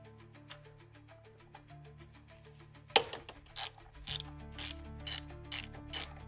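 A ratchet works loose the 8mm thermostat housing bolts on a 2005-2014 V6 Ford Mustang, a sharp snap followed by several short bursts of ratcheting clicks, close, over a quiet background hum.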